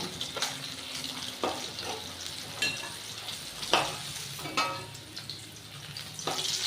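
Thick pieces of rupchanda fish fry in hot oil in a pan, a steady close sizzle broken by sharp crackling spurts and occasional clatter as the fish is turned and lifted.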